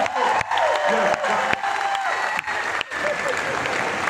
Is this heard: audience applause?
yes